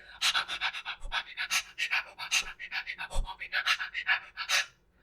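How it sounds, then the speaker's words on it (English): Rhythmic breathing used as percussion: a quick, pulsing series of sharp, panting breaths in a steady beat, close and fairly loud, performed alone for about five seconds. "you can use your breath"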